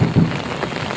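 Heavy rain pours steadily in a thunderstorm, a dense hiss with a low rumble of thunder beneath, brief and continuous.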